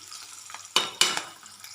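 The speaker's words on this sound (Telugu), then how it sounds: "నూనెలో ఫ్రై చేసుకుందాం" Red chillies and turmeric fry in hot oil for a Telangana tamarind pickle, a soft steady sizzle broken by two sharp, loud bursts of crackle and stirring, with no voices.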